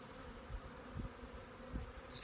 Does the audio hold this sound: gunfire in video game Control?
no